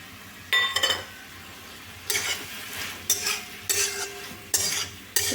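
Tomato chutney with turmeric stirred and pressed in a pan, with short scraping, clinking bursts of the spatula separated by pauses over a soft background hiss, close and fairly quiet.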